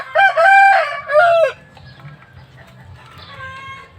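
Native chickens, including thirsty chicks, call out in a loud drawn-out squawk followed by a second burst, then softer clucks and cheeps continue over a low background hum.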